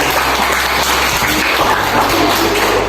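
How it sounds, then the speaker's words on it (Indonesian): A class in an Indonesian religious-education lesson breaks into applause, a loud, continuous wash of clapping that fills the brief moment without any talk over it. "berikan tepuk tangan yang meriah untuk kita."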